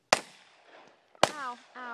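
Two sharp, loud cap gun pops crack about a second apart, each ringing briefly, with people speaking between and after the shots.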